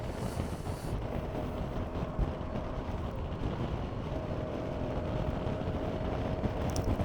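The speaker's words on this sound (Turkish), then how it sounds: "Çok rüzgar var." Steady wind buffets the microphone, producing a continuous low roaring rumble with no clear pauses.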